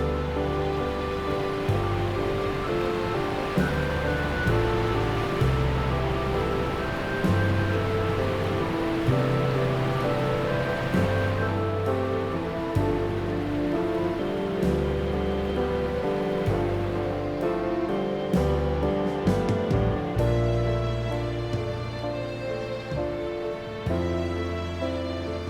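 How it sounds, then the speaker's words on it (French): A huge three-tiered waterfall over 200 metres tall pours out of a cave in Colombia, producing a loud, continuous roar of rushing water that holds steady throughout, with no voices. "une énorme cascade de 200 et quelques mètres sur 3 étages sortent d'une grotte, c'est incroyable"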